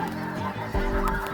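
Snow geese in Arkansas honking in a dense, overlapping chorus, loud and continuous, with many birds calling at once close by.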